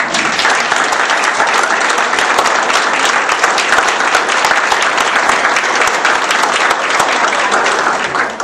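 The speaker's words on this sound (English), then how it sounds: "I'd like everybody to stand up and give them a standing applause right now." A standing audience at a Tea Party congressional district debate in Madison breaks into loud, dense applause that holds steady and continuous for the whole stretch before tapering at the very end.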